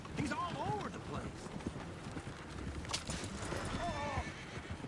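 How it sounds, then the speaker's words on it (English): Horses in a video game clip-clop and whinny loudly, with neighs rising and falling near the start and again toward the end over rhythmic hoof beats, under a voice. "Oh, shit, the horses! Damn horses!"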